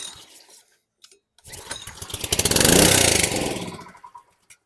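A Honda-powered pressure washer engine with a dirty carburetor fires up on ether, revving roughly with a rapid pulsing putter that swells to a loud peak, then sputters and dies out, with brief clatter before and after.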